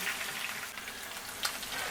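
Rosemary mint lamb chops sizzle steadily in a pan over medium heat, a dense, continuous hiss and crackle heard close up with no talking.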